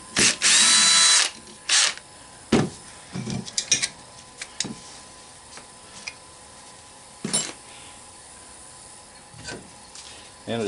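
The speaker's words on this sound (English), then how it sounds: "a must-have in scrapping is the cordless drill" A cordless drill whirs in short bursts while a shop fan with a copper motor is taken apart for scrap: one longer spin, then several brief triggers separated by clinks of tools and parts on a workbench.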